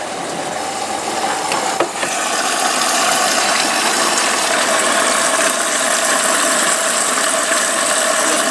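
A domestic washing machine churns steadily through a rinse and spin cycle, a continuous broadband mechanical whir with a faint rattle, holding level throughout after a brief knock near the start, with no talking.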